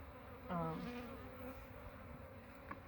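Honeybees buzzing at a beehive, a close, steady hum with a few louder individual passes rising in pitch, sounding alone without talk.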